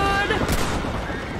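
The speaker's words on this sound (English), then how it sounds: "They're shooting right at me." Enemy gunfire in the Western video game Red Dead Redemption, a loud sharp shot cracking near the middle of a brief busy stretch of game sound.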